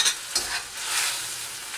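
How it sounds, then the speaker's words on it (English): Pad thai noodles tossed and flipped in a hot pan with tongs, a continuous sizzle broken by a few scraping, clattering turns, close and steady with no one talking. "you want to keep flipping the noodles so that the liquid gets absorbed evenly"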